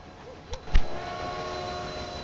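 A passenger train arrives at a station in the railway-building game Railway Empire: a steady mechanical rumble with two short clanks near the start, heard alone and fairly loud.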